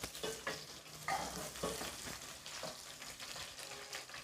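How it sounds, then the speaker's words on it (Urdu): Garlic paste and ginger paste sizzling and frying in a pan while being stirred, a steady crackling hiss with scraping strokes, close and fairly quiet. "ابھی یہ لہسن ڈال رہے ہیں، لہسن کا پیسٹ اور ادرک کا پیسٹ"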